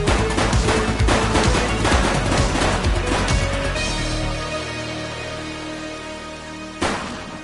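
Gunfire in the police video game The Precinct on PS5: a dense, loud burst of rapid shots and crashes that thins out into a lingering tail, with one more sharp shot near the end.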